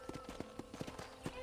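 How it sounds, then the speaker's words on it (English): Horse hooves clip-clop at a steady walking rhythm in the Red Dead Redemption video game, soft and fairly quiet, with a few faint voices underneath. "I picked out a fine horse for you."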